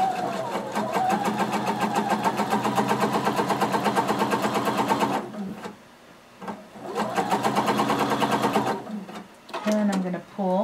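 A sewing machine runs basting stitches along a jumpsuit side seam, a fast rhythmic clatter close by in two bursts, one of about five seconds and a shorter one after a pause, with no talking.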